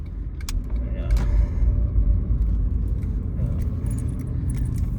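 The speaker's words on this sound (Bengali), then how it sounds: "There is one car is coming, so I can't go." A car approaches on a narrow one-way road, a low rumbling engine and road noise heard from inside a vehicle, with light jangling of keys on top and no talk.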